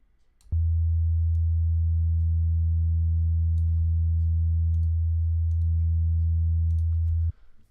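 A steady test tone in a music production setting, driven into clipping distortion, holds loud and constant for about seven seconds with harmonics added partway through and a brief dip near the end.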